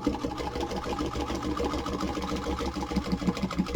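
An old sewing machine stitching through junk journal hard covers runs in a steady, rapid mechanical chatter, close and continuous with a rhythmic low thump under it, no voices.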